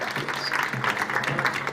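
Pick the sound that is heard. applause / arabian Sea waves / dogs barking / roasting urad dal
applause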